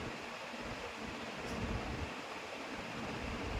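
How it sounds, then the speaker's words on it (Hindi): Water in a pot with rice comes to a full rolling boil, giving a steady, even bubbling roar with no talk over it. "मेरा हाथ वाला पानी पूरा उबाल कर रहा है पूरा उबाल आ रहा है"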